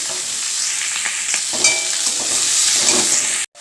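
Ash gourd pieces being stirred into chillies frying in a pan, with a steady loud sizzle and scraping stirs close up, no talking, ending in a brief cutoff.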